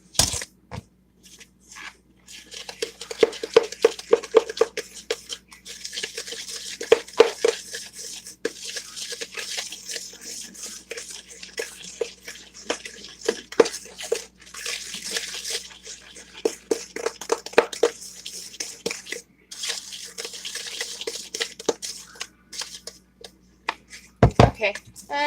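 Cookie dough being stirred with sugar added one cup at a time, giving scraping, clinking strokes against a bowl that repeat irregularly throughout, with talking heard over much of the stirring.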